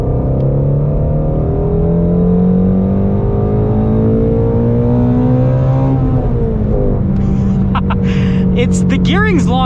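A Shelby GT350 Mustang's engine pulls hard and loud from inside the cabin, its drone climbing in pitch as the car accelerates, then a shift and the roar building again toward the end.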